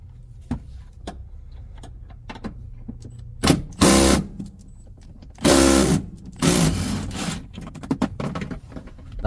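Seat bolts come loose inside a Toyota Tundra double cab, giving sparse clicks and ticks followed by several loud bursts of tool noise, close and without talk.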